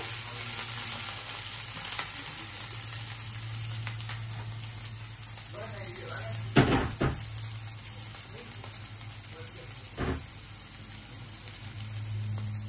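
Chopped onion and green chilli fry in hot oil with a steady, loud sizzle that persists throughout, broken by a few sharp stirring knocks from a utensil against the pan.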